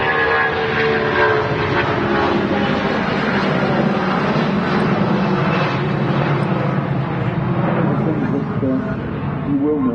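An Emirates Airbus A380 on final approach at Manchester Airport, its engines a loud, steady roar that fills the whole stretch, with a voice faintly audible beneath.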